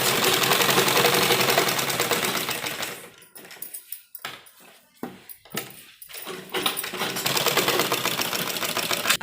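A sewing machine stitches a lined embroidered suit, a loud, steady, close mechanical whir that breaks into short stop-start bursts midway before running continuously again.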